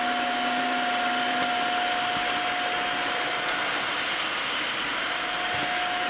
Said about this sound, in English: It's mopping and vacuuming it up.